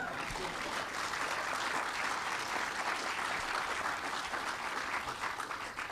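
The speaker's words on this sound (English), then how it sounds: "And we can clap for that if you want." A crowd applauds at a business ribbon cutting on Dorchester Avenue, with steady, dense clapping that holds at an even level from start to finish, somewhat distant and with no talking over it.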